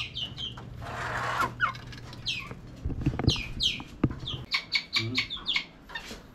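A young rooster gives short, thin, squeaky crows, mixed with clucks and chirps from nearby birds.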